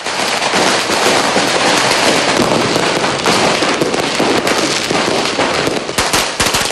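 Dense New Year's fireworks and firecrackers burst continuously at loud volume, a crackling barrage of overlapping pops and bangs that never lets up, with a few sharper blasts standing out near the end.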